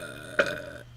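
A single short, fairly quiet burp with a brief voiced rasp, in an otherwise hushed room.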